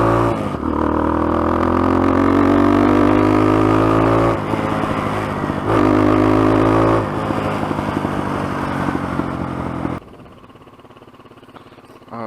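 A dirt bike engine on a trail fires up and revs loudly, its motor climbing and dropping in pitch over several seconds before cutting off near the end, leaving a quieter idle.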